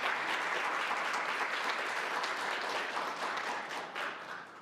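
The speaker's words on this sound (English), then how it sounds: "Let's give all of these individuals a round of applause." Audience applause at a women's forum event, a dense, steady wash of many hands clapping throughout, loud and sustained before tapering slightly near the end.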